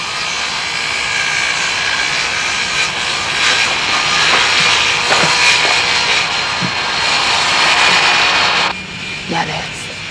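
A propeller aircraft engine drones steadily in a loud, continuous roar that dips briefly near the end, with voices faintly present beneath it.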